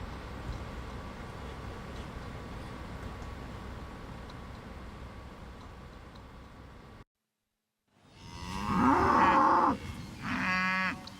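Thin cattle on a North Auckland farm: after a steady noisy hiss and a brief silence, one cow lets out a loud, close, drawn-out moo, followed by a second shorter one.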